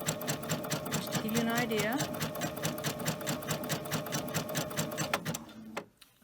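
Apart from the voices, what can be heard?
sewing machine stitching a zigzag on plain fabric with twin needle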